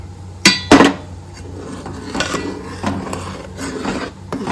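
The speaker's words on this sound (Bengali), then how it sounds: "দিয়ে ভালো করে নাড়ব" A spoon scrapes and knocks against a pot while sweet payesh is stirred with cashews and raisins in melted sugar: two sharp metallic clanks, then softer repeated scraping and stirring sounds.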